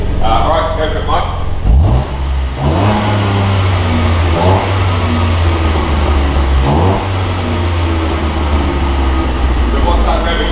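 BMW M2 Competition fitted with a Remus exhaust, valve closed, revved repeatedly while stationary: a steady idle broken by several sharp rising revs, loud and close, with people talking at times.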